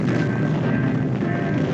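An atmospheric nuclear test bomb explosion gives a continuous, heavy, roaring rumble with dense low-end power, loud and sustained, and no voices.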